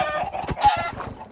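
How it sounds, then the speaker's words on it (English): Chickens clucking in Minecraft Java Edition, a steady run of short, fairly loud game clucks filling the whole brief moment with no talk over them. "I got 6 chickens."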